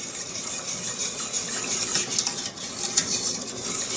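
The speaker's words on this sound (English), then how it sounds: "I'm just gonna give that a nice little stir there." Spoon scraping and clinking steadily against a pot while stirring water and sugar for a lemon meringue pie filling, close and continuous.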